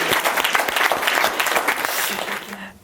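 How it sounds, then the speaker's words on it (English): Wedding guests give the couple a big round of applause, a dense burst of clapping that carries steadily before cutting off abruptly near the end, with a voice faintly underneath. "just give them a big round of applause"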